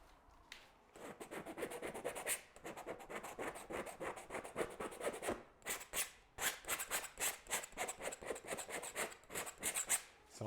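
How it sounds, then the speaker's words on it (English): A scraper rasps across dried, textured paint on a large canvas in quick repeated strokes, loud and close, with rhythmic scratchy pulses and a couple of brief pauses, no voices. "So I'm scraping all that unnecessary texture there."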